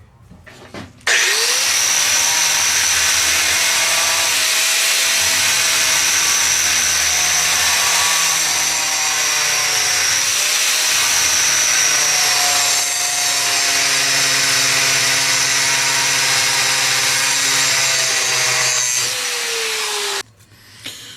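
A grinder cuts ladder-pattern grooves into a three-quarter-inch-thick damascus billet, a loud, continuous high-pitched grinding whine that runs steadily for about twenty seconds with slight shifts in pitch, then stops abruptly.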